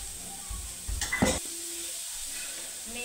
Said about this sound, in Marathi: टमाटर फिरून झाल्यावर टाकायची मेथीची भाजी.